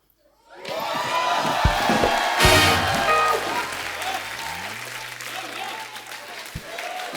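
A burst of applause from a comedy show studio audience breaks out with cheering and whooping, swelling briefly then settling into steady clapping with voices mixed in.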